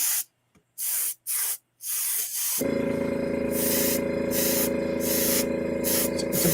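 A marker sprays ink onto a sketch card in short hissing bursts, then a longer continuous spray runs steadily with brief pulses, close and fairly quiet.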